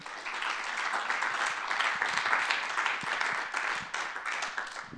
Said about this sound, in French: Vous pouvez applaudir, tout ça se mérite.